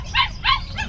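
Three short, bright yips from a French Bulldog at a busy market in Bocaue, evenly spaced and fairly close, with a low background murmur underneath.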